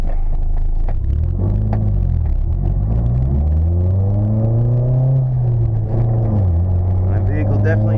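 A 2005 VW Golf GTI with a 1.8L turbo engine and five-speed manual accelerates from inside the cabin, its loud engine drone rising through the gears with audible shifts and dips in pitch.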